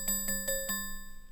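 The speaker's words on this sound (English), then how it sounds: "this is the sound of the low pass plus high pass in the same position." Noise oscillator on a synthesizer run through a low-pass plus high-pass filter, giving four short, evenly spaced tonal bursts over a steady ringing drone that fades after the last hit.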